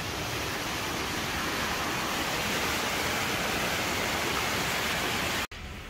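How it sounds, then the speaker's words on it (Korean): A continuous broadband rush of a stream at Gonjiam Resort, loud and close, steady throughout before cutting off briefly near the end. "물소리 좋은데?"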